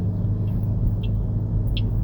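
A car driving down a road in Honolulu, Oahu, Hawaii, heard from inside as a steady, close low engine and road rumble with no break.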